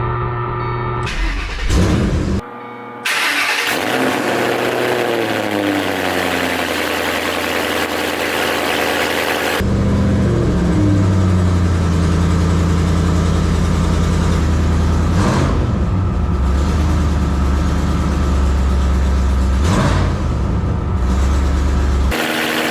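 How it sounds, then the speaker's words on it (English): A 2006 Ford Mustang GT V8 fitted with Kooks long tube headers cranks and fires up for the first time, then settles into a loud, deep, lumpy idle punctuated by a few throttle blips. "this is gonna be the first start with the headers"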